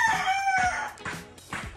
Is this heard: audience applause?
no